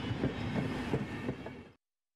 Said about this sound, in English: It seemed the train had reached its final stop.